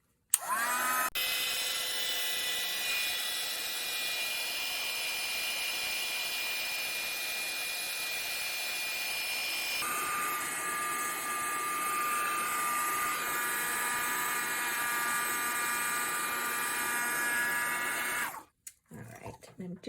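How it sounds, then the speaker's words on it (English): A heat gun blows hot air over a papercraft library pocket, a steady close whooshing roar with a whine that runs nearly twenty seconds without a break before stopping. "heat gun."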